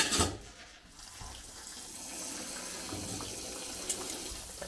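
Hot tap water runs steadily over cooked noodles in a kitchen sink during a chicken laksa recipe, a soft continuous splashing hiss heard fairly faint, with a slightly louder gush at the start.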